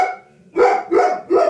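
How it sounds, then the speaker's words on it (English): A dog barks three times in quick succession, loud and close, each bark sharp and short, during an indoor discussion about powwow misconceptions. "Sorry about the dog Blair."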